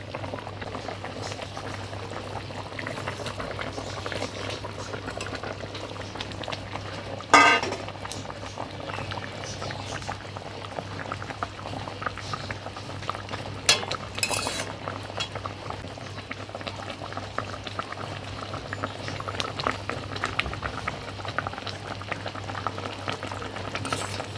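A fish curry gravy with potatoes simmering in a pot, a steady low bubbling and hiss running throughout, close and fairly quiet, with one brief clink near the middle.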